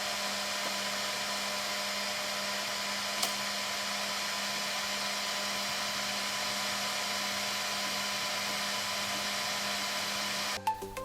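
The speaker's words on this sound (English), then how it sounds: "The A1 Mini's fans, especially the part cooling fan, can get quite loud during operation." Bambu Lab A1 Mini 3D printer fans, including the part cooling fan, whirring in a steady continuous hum for about ten seconds, followed by a few brief mechanical clicks at the end.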